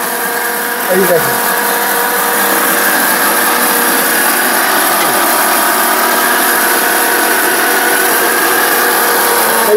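An electric kitchen blender runs steadily at speed setting 3, a continuous loud motor whine with a steady hum that lasts throughout, while someone talks over it.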